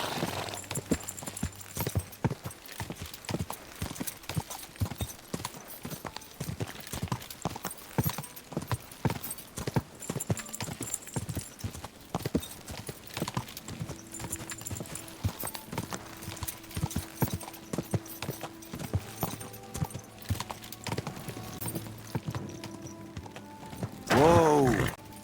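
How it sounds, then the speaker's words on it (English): Horse hooves clip-clopping in Kingdom Come: Deliverance 2, a brisk, steady rhythm of hoofbeats close by with a few clunks and a short whinny near the end. "Easy, good horse."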